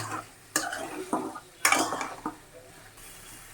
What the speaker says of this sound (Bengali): সবগুলো এখন আমি ভালোভাবে আর একটু কষায় নিব